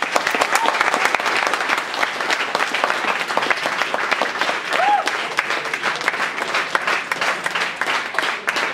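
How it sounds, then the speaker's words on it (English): An audience at a talk applauds, a dense, steady wash of many hands clapping that carries on without fading, with faint voices mixed in. "let's clap our hands for it."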